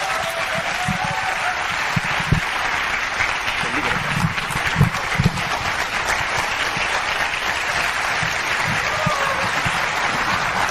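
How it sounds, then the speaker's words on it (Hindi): Steady audience applause at a Hindi-language stage event where a housewife from Hoshangabad is welcomed, dense clapping holding evenly throughout with scattered louder claps and a faint voice or two underneath. "जोरदार तालियां"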